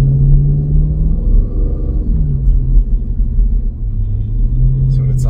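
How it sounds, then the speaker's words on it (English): A Dodge Durango R/T V8 with an AWE Touring exhaust accelerates, heard from inside the cabin as a loud, deep, meaty engine rumble whose pitch rises and shifts through gears across a few seconds. "It definitely sounds more like a V8, a lot more meaty."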